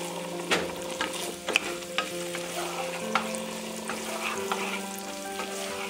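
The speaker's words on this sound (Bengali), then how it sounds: "পনিরটা মোটামুটি হালকা ফ্রাই হয়ে গেছে" Paneer cubes tossed with turmeric fry lightly in a pan, a steady soft sizzle broken by repeated scrapes and clicks of a spatula stirring, close and continuous with no voices.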